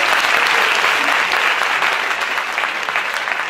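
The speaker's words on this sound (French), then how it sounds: "Applaudissez encore." A crowd at a bass guitar semifinal bursts into dense, loud applause, a continuous wash of many hands clapping close by that holds steady and fades only slightly.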